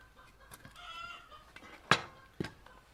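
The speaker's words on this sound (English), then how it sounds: "Sounds like that chicken is still going." A hen clucks after laying an egg, giving a few soft scattered clucks and then two loud, sharp squawks close by, with no talk over them.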